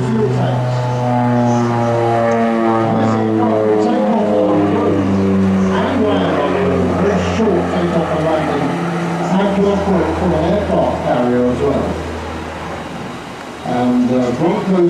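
An OV-10 Bronco twin-turboprop flies a display pass at the Rhyl Airshow, its steady droning engine tones sliding in pitch as it banks round, loud and continuous, with a commentator talking over it throughout.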